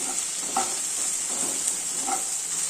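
Ginger garlic paste sautéing in a pan for brinjal rice, a continuous bright sizzle with a few soft stirring knocks spaced through it, no speech.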